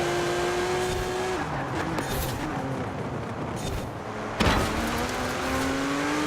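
A Porsche GT3 RS in the video game Forza Horizon 4 runs at full throttle, its engine note rising through the gears in loud, continuous revs with a sharp shift or bump partway through.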